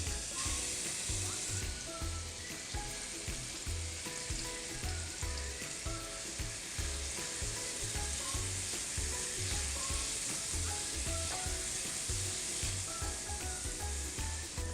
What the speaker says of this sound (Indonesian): Kita tumis dengan sedikit minyak. Sekarang kita tumis bumbunya.